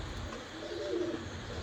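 A grey Kasuri-bloodline pigeon gives a single soft, brief coo midway through, heard faintly over a low background hum.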